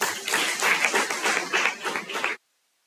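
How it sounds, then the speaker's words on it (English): Students at an Intellectual Property Day workshop clap to welcome a speaker, a moderate round of applause with audible individual claps that cuts off abruptly into silence. "let's all welcome her with a clap"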